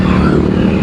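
Loud, close engine roar of car traffic on the Bangkal bridge road in Botolan, Zambales, a brief steady burst of passing vehicles with no voices.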